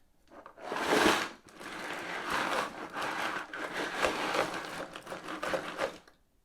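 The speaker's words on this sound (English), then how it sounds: "Sounds like there's some pieces loose in here" Small loose Lego pieces rattle and clatter inside a sealed box as it is shaken, a continuous busy jangle with a louder burst near the start.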